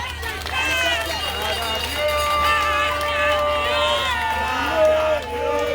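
A crowd at a party office commissioning event cheers and shouts for the president, with steady, dense cheering and high voices throughout.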